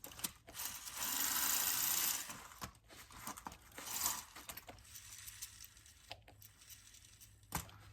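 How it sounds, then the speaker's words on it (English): A solenoid clicks and buzzes inside a James Bond tin toy car running on low batteries. A close, loud mechanical whirr lasts about a second, followed by irregular clicks and rattles, with no voices. "There's a solenoid working."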